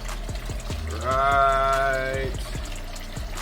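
Water runs from a kitchen tap into a pot to be boiled on the stove, a rising tonal fill that swells for about a second, with a voice speaking over short knocks and handling sounds.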